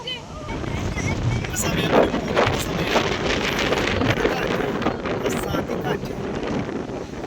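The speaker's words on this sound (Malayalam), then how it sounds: "കാറ്റ് കാറ്റ്" Strong coastal wind at a lighthouse with fishing boats buffets the microphone in loud, continuous gusts, rumbling and roaring throughout, with a voice faintly underneath.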